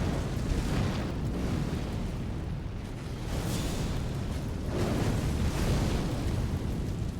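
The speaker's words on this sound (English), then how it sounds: "It's constantly exploding." Repeated explosions from a Prelate enemy's head in the Elden Ring video game, heavy booming bursts rolling over a constant loud roaring rumble, several blasts in a few seconds.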